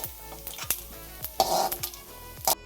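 Grated coconut sizzles in hot oil for unniyappam, a continuous close hiss broken by repeated scrapes and taps of a spoon stirring in the pan, with one louder burst of frying midway and no voices.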